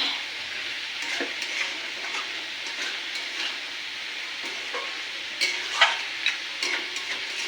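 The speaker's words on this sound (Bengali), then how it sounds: "মাটনটা একটু কষানো হোক" Mutton seasoned with salt and turmeric sautés in a pan, a moderate steady sizzle broken by scraping stirring strokes and a few sharper clanks near the end.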